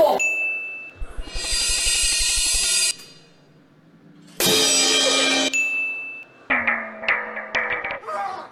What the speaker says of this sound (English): We simulate the sound of thin shells.